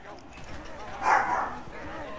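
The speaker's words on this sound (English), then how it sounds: "Hope, stop barking." A dog yips and whimpers briefly in a room during an ECFL football game broadcast, one short higher-pitched burst in the middle, faint and partly under the commentator's ongoing talk.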